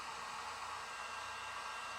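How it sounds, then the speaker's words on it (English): Heat gun blowing hot air to dry airbrushed paint on a truck hood, a steady, loud, unbroken broadband whoosh with a constant motor hum, alone and unchanging throughout. "So this is a heat gun. It makes a lot of your work go faster."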